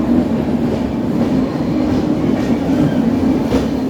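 A train running from Visakhapatnam to Araku through a tunnel makes a loud, continuous rumble with a low droning hum and faint rhythmic wheel clatter, enclosed and close.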